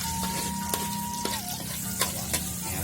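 Shallots and garlic for a jengkol seasoning sauté in a pan with a quiet, steady sizzle, a few sharp clinks of the utensil against the pan, and a faint tone running underneath.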